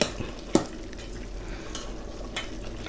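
Water boils steadily in a pot on the stove for a Thai chicken dish, a soft continuous bubbling with a single brief clink partway through.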